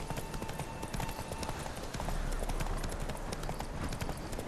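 Galloping horse hooves from The Witcher 3: Wild Hunt, a steady fast clip-clop rhythm pounding close and loud for the whole stretch, with no talk over it.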